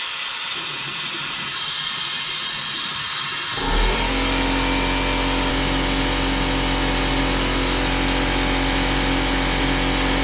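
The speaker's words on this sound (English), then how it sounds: "So let's start by vacuuming down the cooling system, getting everything out of the engine." A vacuum tool draws coolant out of the cooling system of a Porsche Cayenne 958 diesel during a water pump replacement. Quiet at first, then a loud, steady hiss and drone starts near four seconds and runs without a break to the end.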